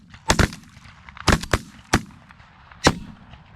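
Shotgun blasts during a goose hunt: four sharp, loud reports, two close together near the start, a quick pair around the middle and one more at the end, over a faint outdoor background.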